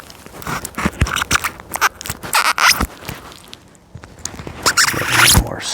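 A plastic wall corner guard edge protector being cut with a knife or scissors, giving close crunching, scraping snips in uneven bursts with short pauses, no talking.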